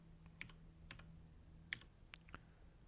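Computer keyboard typed on in short bursts of quiet, close clicks with irregular gaps over a faint steady hum, no voices.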